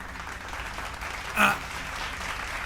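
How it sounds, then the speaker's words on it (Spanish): A crowd applauds continuously, a dense wash of clapping with a brief louder swell midway. "Dejen de aplaudir eso."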